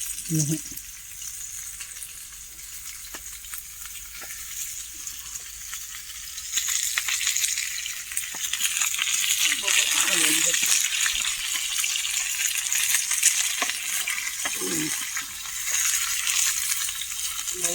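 Fresh tilapia, caught from a dam, sizzles on a hot griddle pan outdoors. A low fry builds to a louder steady crackle partway through, and people talk briefly over it now and then.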